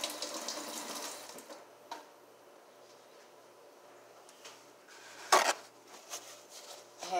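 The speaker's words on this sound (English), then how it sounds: "now I'm going to wash my hands off" Running tap water in a kitchen sink while hands are washed after handling beef for a crock pot soup, a steady faint hiss with a brief louder splash partway through.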